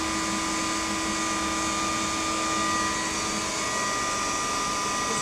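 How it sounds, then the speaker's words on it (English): An Electrolux Epic 6500 canister vacuum cleaner with an L-shaped swivel power head runs steadily up close, a constant whining motor drone with a fixed tone and no pauses. "This is one of the original Electrolux canisters with the L-shaped power head and the swivel."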